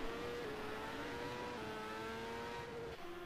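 A ChampCar racer in a racing sim holds high speed along the main straight at Indianapolis, its engine a steady, sustained whine that stays loud and close for the whole stretch, with a slight pitch dip near the end.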